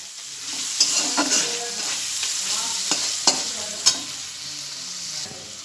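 Ginger garlic paste fries in a pan under a constant bright sizzle, with repeated spatula scrapes and taps as it is stirred.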